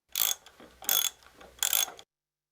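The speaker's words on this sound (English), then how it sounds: "A socket wrench?" A socket wrench ratchets in three quick bursts of sharp metallic clicking, each about a third of a second long with short pauses between them, close and fairly quiet, with no voices.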